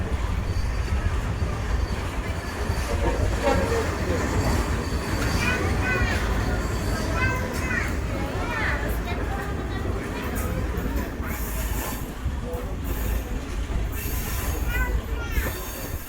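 Wheels squeal repeatedly in high, wavering tones over the steady rumble and rattle of a passenger train rolling along Cuba's easternmost line, with talk heard at times.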